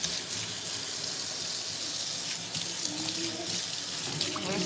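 A faucet runs steadily to rinse a child's natural hair at home, a loud continuous splashing hiss with no talking.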